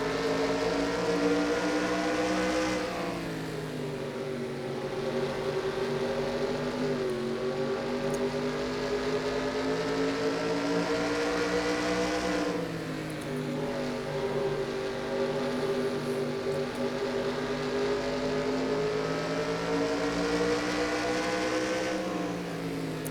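Onboard engine of a NASCAR Racing 2004 stock car drones steadily and loud, with its pitch sagging at two points for corners before climbing back up through the gears.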